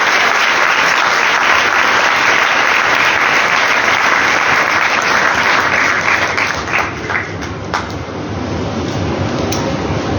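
A church congregation at Sunday Mass in St. Joseph's Parish, Gujranwala, applauds mothers on Mother's Day with loud, continuous clapping that fills the space and tapers slightly toward the end.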